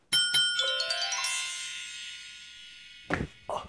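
A two-tone ding-dong doorbell chime rings out clearly and decays slowly, followed by a couple of short knocks or bumps near the end; no talking over it.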